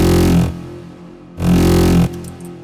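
Two loud bursts of a synth sound shaped by a double notch filter, each about half a second to a second long and separated by a quieter gap, with no voices.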